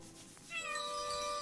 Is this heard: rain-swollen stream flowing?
no